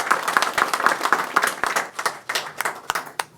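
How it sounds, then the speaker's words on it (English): A short burst of applause from a modest crowd at an Oak Lawn Board of Trustees meeting, hands clapping unevenly and fading toward the end. "A round of applause for them, please."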